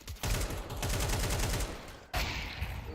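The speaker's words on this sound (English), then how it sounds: "they pepper in some shots" Rapid automatic gunfire from a Counter-Strike esports match, with dense crackling bursts of shots in quick succession, a brief break, then more firing, moderately loud with no talk over it.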